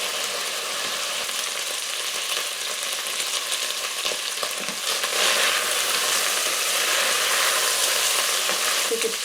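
Beef searing for goulash in a WMF Perfect 4.5 litre pressure cooker, a dense, steady close sizzle that swells slightly louder partway through, with no talking.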